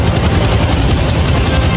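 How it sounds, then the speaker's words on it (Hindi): Egyptian military helicopters fly overhead, producing a loud, continuous deep rotor thrum and engine roar that fills the air without any voices. "क्या तुम्हें हेलीकॉप्टर्स की आवाज आ रही है?"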